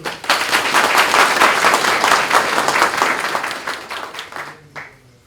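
An audience at a village association meeting breaks into lively applause, dense clapping that holds steady for several seconds before thinning out and stopping.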